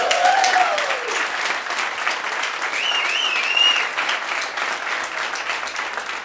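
A sold-out comedy club crowd at the Ice House in Pasadena bursts into loud sustained applause and some cheering whoops, a dense wash of clapping that holds steady for several seconds.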